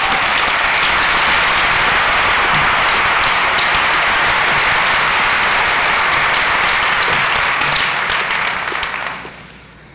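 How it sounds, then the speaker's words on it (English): A conference audience at an IBM EMEA show in Dubai applauds, giving sustained, dense clapping at a steady level that fades out near the end. "please join me on a round of applause"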